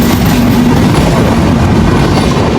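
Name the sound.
Khulna to Dhaka train passing through a station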